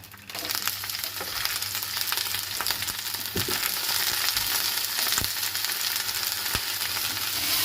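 Herbs and galangal frying in a little oil for a fermented-fish chili dip, a continuous, close hiss of sizzling with occasional sharp stirring clicks against the pan, with no talking.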